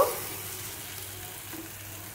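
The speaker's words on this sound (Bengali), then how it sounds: "আজকালে এটা নেড়ে নেব, ভালো করে মিক্স করব।" Kucho chingri, small shrimp, sizzling in a pan with mustard paste, a steady broad frying hiss with a soft stirring scrape, close and moderately loud with no talk.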